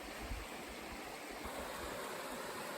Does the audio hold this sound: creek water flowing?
yes